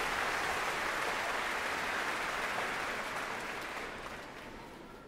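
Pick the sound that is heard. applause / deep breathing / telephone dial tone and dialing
applause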